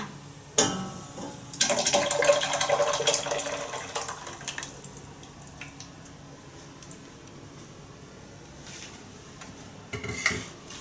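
Thick curry paste plops and slides into a pot of boiling water amid clattering utensil clinks and running water, with scraping taps toward the end.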